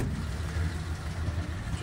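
A 1935 Ford Model 48 Deluxe engine idles after a cold start, a steady low rumble heard close and even, with no voices.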